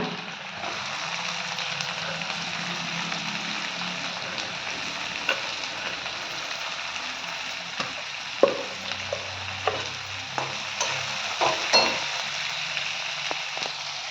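Onions sizzle steadily in a hot pan, with occasional scraping and stirring clicks over the constant frying hiss.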